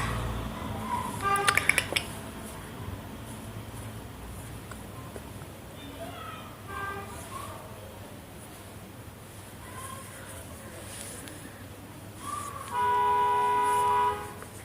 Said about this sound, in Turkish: Bu kornaları gerçekten hiç sevmiyorum.